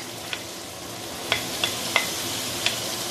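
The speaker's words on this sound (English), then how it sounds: "By sauteing carrot, you can actually release the carotene." Carrot and shiitake mushroom stir-frying in a wok, a continuous close sizzle broken by several short metallic taps of the spatula against the pan.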